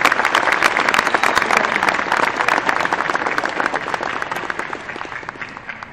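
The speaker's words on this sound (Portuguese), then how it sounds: "Uma salva de palmas para essa galera aqui." A large keynote audience at JavaOne 2015 breaks into loud, sustained applause, a thick wash of many hands clapping that stays strong and tapers slightly toward the end.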